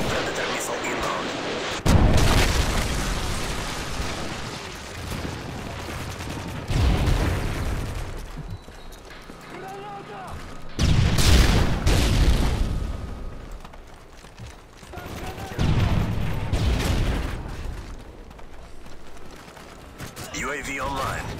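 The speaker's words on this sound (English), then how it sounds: "Friendly Predator missile inbound." Predator missile strikes in the Modern Warfare 3 video game, several heavy booming explosions with rumbling tails spaced a few seconds apart, loud and close, with game voice callouts between them.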